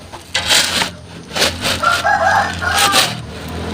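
Several backyard chickens cluck nearby at feeding time in the countryside while a rooster crows loudly, with repeated calls overlapping in a busy farmyard chorus.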